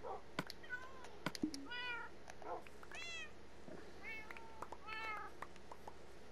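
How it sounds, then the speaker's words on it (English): Several cats meow in the Minecraft video game, short rising-and-falling calls scattered at intervals, some closer and louder, over faint background game ambience. "these cats keep meowing"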